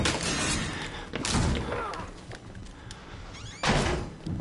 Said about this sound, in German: Tür zu.